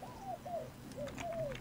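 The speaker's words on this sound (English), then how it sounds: "I got a bird! And a pigeon egg." A pigeon in a video game coos in two pairs of smooth, falling notes, each pair separated by a short pause. The coos are clear and moderately loud with no talking.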